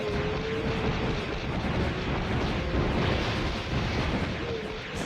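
Shots fired rapidly at a big crab in the Atlantis: The Lost Empire video game form a dense, continuous barrage of booming blasts, loud and unbroken for several seconds.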